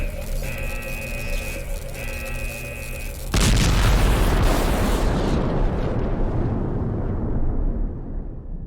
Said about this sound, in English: You destabilized the energy core. It's overcharging. Let's get the hell out of here. This thing is going to explode.